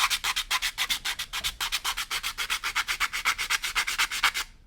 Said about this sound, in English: you take a paint stick and a piece of sandpaper